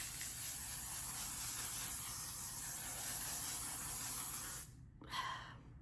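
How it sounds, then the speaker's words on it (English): L'Oreal Infallible setting spray misted onto a face: a long, even, close aerosol hiss lasting several seconds, then a sharp stop and one brief final spritz. "I want to hairspray my face with this."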